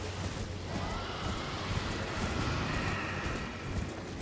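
Horse hooves clopping steadily during mounted riding in Elden Ring, a continuous galloping patter at moderate level over a dense game soundscape, with no one talking.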